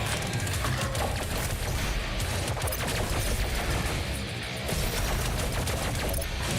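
Nonstop, dense gunfire from the Doom Eternal video game, loud and unbroken for the whole stretch, shots blurring into a continuous roar of heavy weapons.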